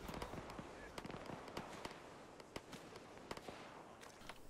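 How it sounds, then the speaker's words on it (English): Distant gunfire from a military video game crackles in scattered sharp pops and short bursts, faint and far off, irregular throughout the whole stretch. "Well, I hear a lot of shooting."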